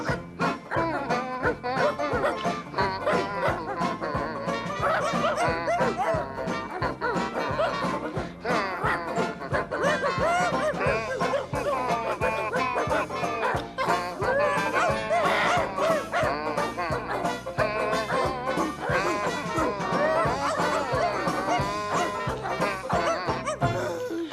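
Dogs bark and howl along to a loud, continuous song about dog paddling, their yips and whimpery howls woven through the music for the whole stretch.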